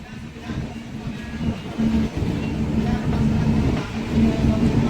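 Inside a train slowing through a curve on a forested stretch of line in Gujarat, a low continuous rumble of wheels on rail with faint intermittent squeal, steady and close throughout.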